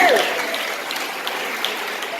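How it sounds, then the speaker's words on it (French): Congregation at the Assemblée de Dieu church in Delmas 101 applauding for God, a continuous patter of many hands clapping at moderate volume, with a brief voice at the very start. "on va un bravo pour mon Dieu. Un applaudissement pour mon Dieu."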